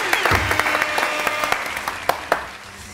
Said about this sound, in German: Großen Applaus für Dominik und den Kevin.